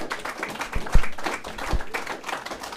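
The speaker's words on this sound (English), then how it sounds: "let me get a round of applause for Leandra pulsing on this beautiful cake" A small crowd at a rededication ceremony gives scattered, fairly light applause, with claps arriving irregularly at moderate distance rather than as a full ovation.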